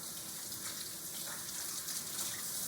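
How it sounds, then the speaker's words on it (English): Running tap water splashing steadily over hands to rinse off soap, a continuous hissing flow at close range with no talking. "you can stick them back under the water and wash all that soap off."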